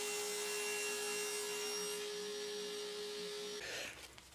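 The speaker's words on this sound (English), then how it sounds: "Now I can cut the top of the step stool" Wood is sawn while a step stool top is cut to size, giving a continuous, steady cutting noise that stops abruptly near the end, heard close and without talk.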